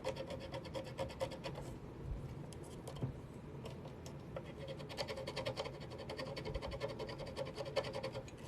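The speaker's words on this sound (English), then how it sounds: "I'm just gonna scuff this up with a screwdriver." A screwdriver scuffs the body of a guitar during a Frankenstrat-style build, making a faint, steady scraping and rasping that continues the whole time at low level.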